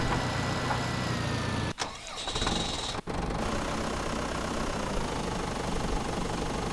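A farm vehicle engine droning steadily in Landwirtschafts-Simulator 2011, a loud continuous mechanical hum with two brief dropouts early on.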